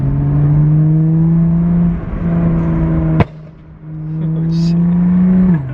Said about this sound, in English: cars are flying by